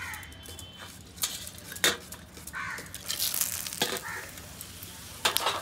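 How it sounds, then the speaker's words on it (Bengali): Dried chilli, bay leaf and whole garam masala sizzle in hot oil, a close crackling fry broken by sharp clinks of a utensil against the pan. "শুকনো লঙ্কা, তেজপাতা আর গোটা গরম মশলা ফোড়নে দিচ্ছি"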